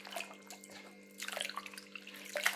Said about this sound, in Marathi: आता स्वच्छ 2-3 वेळा पाण्यामध्ये अशी धुवून घेणार आहे मी